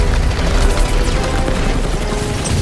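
A rumbling fireworks explosion in the video game Guardians of the Galaxy makes a dense, loud, continuous wash of booms and crackling bursts that fills the whole moment without a break.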